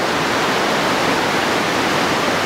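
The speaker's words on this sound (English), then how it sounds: "It's called a fake waterfall." Artificial waterfall at a temple site in Bali, a steady, loud, broadband rush of falling water filling the whole stretch without pause, close by and with no voices over it.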